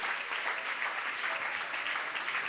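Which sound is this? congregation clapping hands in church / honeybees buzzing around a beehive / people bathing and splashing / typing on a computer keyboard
congregation clapping hands in church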